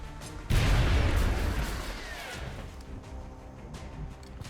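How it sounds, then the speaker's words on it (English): A frag grenade goes off in XCOM Long War, one sudden loud blast that rumbles and slowly fades over several seconds into faint background game sound. "So not too worried about throwing frag grenade at this guy here."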